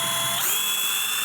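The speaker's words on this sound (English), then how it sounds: "We'll have to drill a couple holes though through it." A power drill bores holes through a stainless steel panel, a steady high-pitched whine that holds close and loud throughout with a slight rise partway through.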